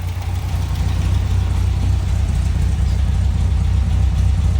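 A 1960 MG MGA 1600 Roadster engine idles close by after its idle speed has been lowered. It gives a loud, even, low throbbing rumble that holds steady throughout, with no voices.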